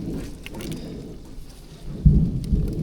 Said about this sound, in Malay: Ribut kuat.